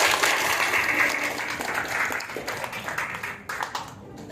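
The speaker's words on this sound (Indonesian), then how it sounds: "Tepuk tangan untuk Pak Arik Sanjaya." Applause at a hospital Christmas and anniversary celebration: a large crowd claps in a dense, steady wash that gradually thins toward the end, with no voices over it.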